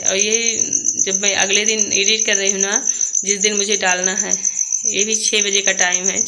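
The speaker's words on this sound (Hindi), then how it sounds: "चिड़िया चहक रही हैं।" Birds chirp in the early morning, a continuous high twittering that runs steadily under someone talking close by for the whole stretch.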